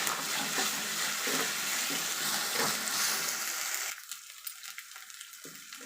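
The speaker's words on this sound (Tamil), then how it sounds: "இஞ்சி பூண்டு பேஸ்ட் வந்து ஆட் பண்ணிக்கலாம் அதோடைய பச்சை வாசனை போக நல்லா வதக்கிக்கலாம்" Ginger garlic paste sautéed with onions in a pan for a crab pepper fry, making a steady, close sizzle with stirring, before the frying noise drops to quieter scraping and clinks.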